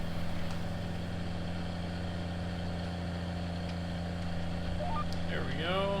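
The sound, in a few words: tractor engine running in a farming video game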